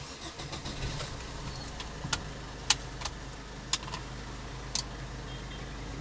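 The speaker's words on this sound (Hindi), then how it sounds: "गाड़ी स्टार्ट है" A 2015 Maruti Swift Dzire idling inside the cabin, with a low, steady engine hum and a few sharp clicks and knocks, moderately quiet and close.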